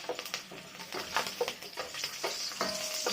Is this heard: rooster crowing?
no